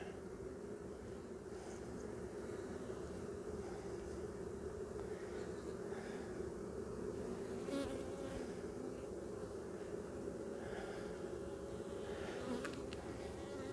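Honey bees buzz at an open hive during an inspection, a faint, continuous drone of many wings that swells slightly now and then, with no voices.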